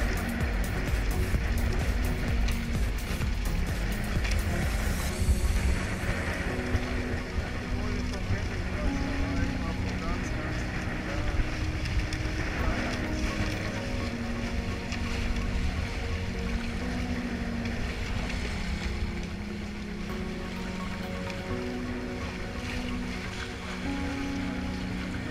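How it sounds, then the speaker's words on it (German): A Weta sailboat sails hard in strong wind as a gust sweeps in, bringing steady broadband wind roar and rushing water close by that stays loud throughout and eases slightly near the end. "jetzt kommt eine Böe rein, nicht erschrecken"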